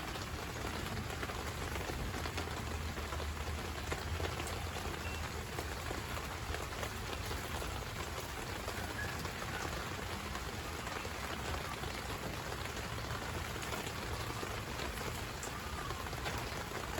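Steady rain falls outdoors during a heat pump installation, a constant, even hiss of drops on surfaces with no talking, holding at the same level throughout.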